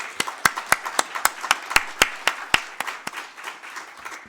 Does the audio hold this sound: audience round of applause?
yes